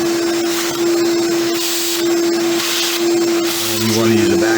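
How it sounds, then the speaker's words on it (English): A vacuum cleaner runs steadily and loudly during an aluminum radiator weld repair on a fixture welding table, a constant whine with a droning hum, while a person talks over it. "And you want to use a vacuum."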